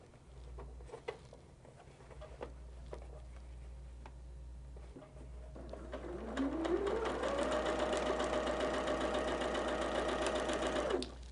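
A sewing machine stitches pieces of blue and white quilt fabric together for a Blue Star plain quilt block. A steady mechanical whir with a fast rhythmic patter starts partway through and runs loud and continuous until it stops near the end.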